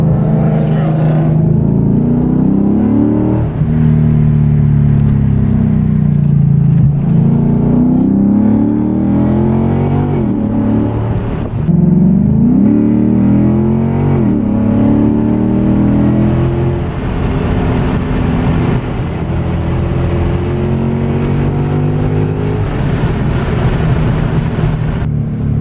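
A 2008 Lexus IS F on a race track, fitted with a high-performance tuned exhaust and aftermarket headers, drones loudly and continuously as it rises and falls through the revs, with people talking over it.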